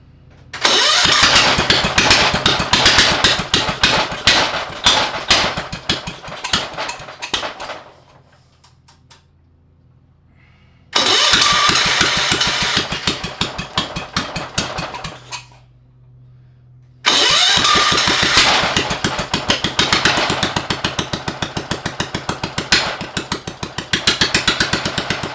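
A Cub Cadet 582 pulling tractor engine fires up and runs loud and close with a rapid rough chatter, cuts out to near silence, restarts, dies again, then catches and keeps running hard.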